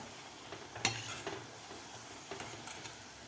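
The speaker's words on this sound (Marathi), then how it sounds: "व्यवस्थित आपल्याला भजे तळून घ्यायचे आहेत" Bhaji fritters fry in hot oil with a soft, continuous sizzle, punctuated by a sharp clink near the start and a few lighter taps later, fairly faint and without talk.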